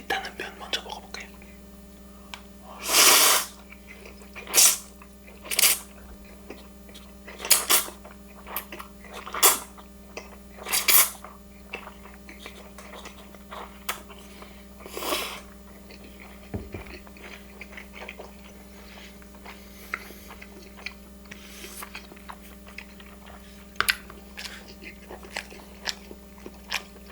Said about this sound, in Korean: 일단은 면 먼저 먹어볼게요.